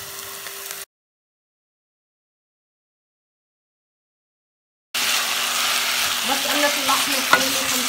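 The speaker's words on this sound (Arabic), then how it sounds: "بس قليت البصلة بهذا الشكل، هلأ بحط اللحمة." Meat hits a pan of fried onion and garlic on a gas stove and sizzles loudly, with stirring scrapes over the crackle. The sound drops out completely for a few seconds in the middle.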